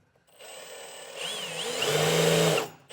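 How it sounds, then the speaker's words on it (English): A handheld power drill with a small bit bores through a 2025 Ford truck bed for an underbed gooseneck hitch, a steady whine that rises in pitch and loudness for about two seconds before stopping. "I'm going to go ahead and drill all the way through with a small bit"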